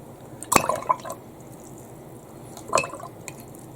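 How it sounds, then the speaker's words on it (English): A paintbrush swished and tapped in a water jar during a colour portrait drawing, giving two short splashy bursts of dripping and sloshing about two seconds apart, close and quiet. "Rinse off my brush."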